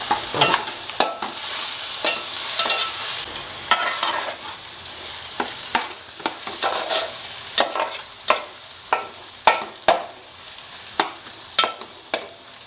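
Spices dry-roasting in a pan for Godavari-style small fish pulusu, with a spatula scraping and knocking against the metal in a steady, repeated rhythm of sharp strikes over a soft crackle. The sound is close and there is no talk.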